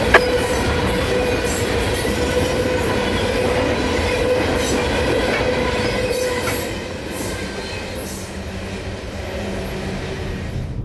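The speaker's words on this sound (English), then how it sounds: "this is the first loaded train they're getting." A heavy loaded coal freight train rumbles past close by, a continuous loud roar of wheels and cars with faint squealing, steady throughout.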